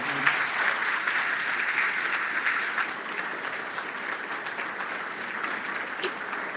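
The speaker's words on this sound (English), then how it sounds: "could you give Chief Summers a round of applause" Audience at a public forum applauding a police chief, a steady wash of clapping that fades slightly toward the end, heard from a moderate distance.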